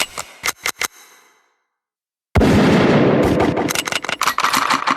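Gunshot samples played on a Roland SP-404MKII sampler: several sharp gunshots crack in quick succession, then silence, followed by a dense burst of rapid automatic fire with sharp pops at the end.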